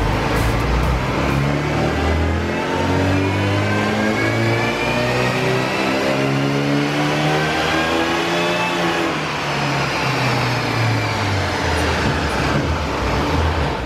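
Supercharged Mini engine revving hard on a dyno during a power run, a loud continuous climbing roar with rising harmonics sweeping upward through the gears, close and alone without speech.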